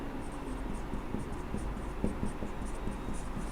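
Pen or marker strokes on a board, a steady series of soft scratchy taps and short strokes at close range over a low background hum, with no voice.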